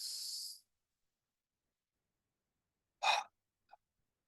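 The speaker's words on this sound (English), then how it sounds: "Breathing out, relaxing, and one last time." A slow, audible breath out during a guided relaxation exercise, a soft breathy rush lasting about half a second, followed after a quiet pause by a short voiced breath and a faint tail.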